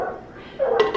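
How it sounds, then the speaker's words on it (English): Ruby the dog barks once or twice from across a kitchen, short sharp yaps near the end over quiet background. "So, Ruby's barking."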